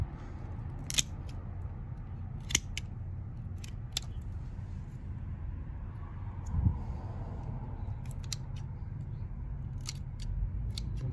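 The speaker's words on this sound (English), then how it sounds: "Try to get a clean cut, but it's really spongy." Scissors or pruners cut through a spongy, crushing plant stem, a few sharp snips spaced seconds apart, close and moderately loud over faint outdoor background.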